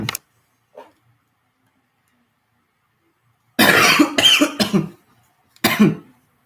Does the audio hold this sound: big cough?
yes